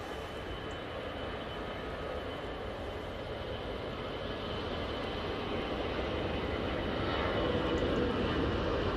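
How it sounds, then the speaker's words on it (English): An Airbus A320-200 at Manchester Airport spools its jet engines up for a takeoff run to Naples, a broad, distant rumbling roar that slowly builds in loudness, with no talk over it. "Now spooling up off to Naples,"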